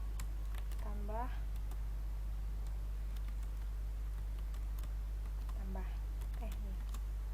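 Computer keyboard keys pressed for a Ctrl zoom shortcut in Photoshop, a few faint clicks under someone talking, over a constant low hum.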